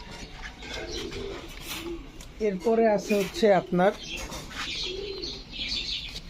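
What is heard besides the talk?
racer pigeons cooing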